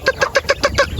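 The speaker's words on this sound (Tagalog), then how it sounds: "Papakainin na ngayon eh, tito. Yung mga manok." Chickens cluck in a quick, even series of about seven close, loud calls while being fed on a farm.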